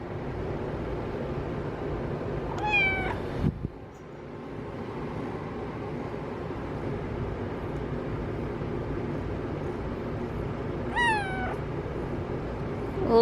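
Two short cat meows, one early and one near the end, over a steady low background hum.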